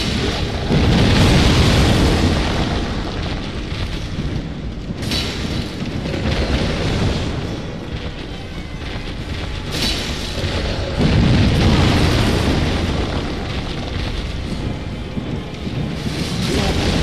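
Heavy booming blasts roll through Dark Souls Remastered as bombs drop and explode, deep rumbling impacts with sharp cracks near five and ten seconds over continuous low roar.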